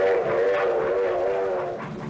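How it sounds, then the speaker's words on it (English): A wartime freight train rolls along with a steady mechanical rumble and a sustained whistle-like tone layered over it, heard continuously and fairly close. "Full trains were assembled on the spot, loaded with freight and sped forward."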